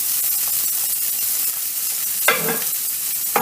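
Steak frying in a pan gives a steady, loud sizzle throughout, with a brief burst of hissing crackle partway through, and no voices.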